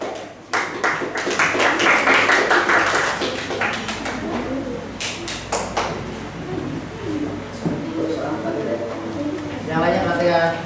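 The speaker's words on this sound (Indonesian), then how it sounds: "Tepuk tangan dulu buat kelompok 2." Classroom students clapping for a group coming to the front, bursts of sharp claps in uneven clusters, with voices talking in between and birds cooing nearby.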